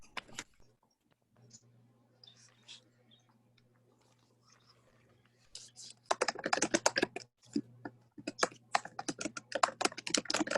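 Rapid computer keyboard typing and mouse clicking, sparse and quiet at first with a steady low hum, then turning into dense, loud bursts of keystrokes close by.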